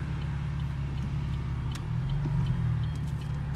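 A passing car engine rumbles steadily at moderate distance as the vehicle drives by on a street, a low continuous hum with no voices.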